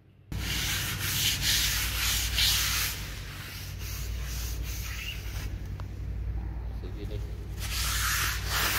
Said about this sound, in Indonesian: Ini adalah penampakan area tangki pada saat penyemprotan, penuh dengan kabut air dan minyak